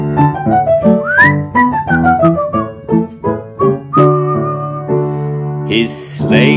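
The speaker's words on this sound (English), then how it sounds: "Whistle." A bright melodic whistle carries a tune within a Christmas song, loud and continuous with sliding notes, up front in the mix.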